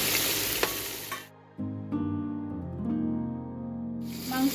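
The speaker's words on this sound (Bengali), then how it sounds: "মাংসটা একটু হালকা করে ভেজে নেবো" Chicken meat fries lightly in a pan, a close sizzle at the start that gives way to a tonal, music-like interlude midway before the frying hiss returns at the end.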